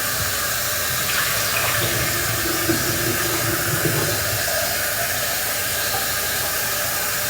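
Tap water runs steadily into a kitchen sink during dish washing with soap, a close, even hiss and splash with no one speaking.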